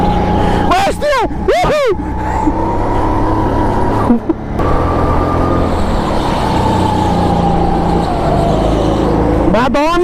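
A car engine drones loudly and continuously while the car drifts through a curve, its pitch swooping up and down, with excited voices talking over it throughout.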